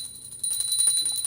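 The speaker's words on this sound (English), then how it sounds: "Please take the bell in your left hand and ring it loudly along with the mantra." A handheld brass bell rings during a Hindu puja, a bright sustained metallic tone that swells louder partway through with a rapid jangling pulse.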